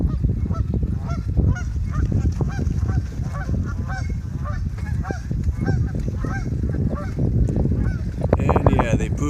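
A flock of geese honk repeatedly outdoors along a trail, loud overlapping nasal calls in irregular bursts over a constant background rush.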